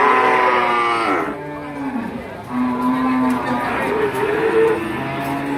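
Cattle low at a cattle market in Wirosari, Grobogan, with several drawn-out moos, some near and some farther off, set against the market's background murmur.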